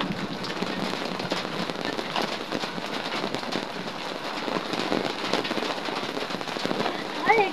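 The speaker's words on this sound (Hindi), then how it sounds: "और ये देखिए बारिश तेज हो गई है।" Heavy rain pours steadily outdoors, a dense continuous patter on surfaces, fairly close and even throughout, with a brief sharper sound near the end.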